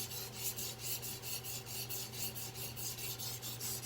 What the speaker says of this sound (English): I'm just gonna sharpen both sides